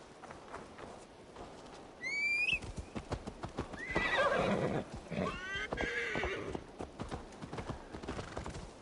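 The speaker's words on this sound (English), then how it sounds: "Oh, riding on a horse is so much faster." Horse hooves clip-clop at a steady gallop in the Viking-era action game Assassin's Creed Valhalla, with a couple of whinnies and neighs rising over the hoofbeats and faint game ambience beneath.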